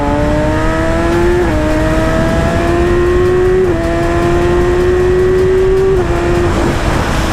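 A loud motorcycle engine with a twin exhaust accelerates repeatedly, each rising whine cut by a quick drop as it shifts gears, close by with a rough, throaty exhaust note.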